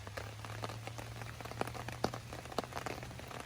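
Heavy rain drumming on a tarp shelter during a woodland outing, a dense patter of drops with sharper individual splats close by, steady and fairly quiet, no talking.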